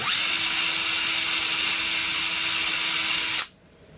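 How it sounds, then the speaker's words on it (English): A power drill whines steadily at high speed for several seconds while drilling a hole in a tobacco pipe, close and loud, then cuts off abruptly into quiet room noise. "all you want to do is drill through until you feel that you've gone"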